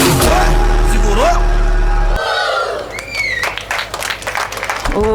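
Applause and cheering from a school crowd after a grade 8 boys and girls Zumba performance, loud and close, following music that cuts off abruptly, with whoops rising over dense clapping.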